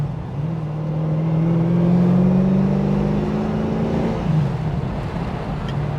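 A 1989 Aston Martin V8 Vantage Volante X-Pack with a 7.0-liter big-bore V8 runs steadily on a frigid day, a low droning hum that swells gently then eases, close and continuous with no voices.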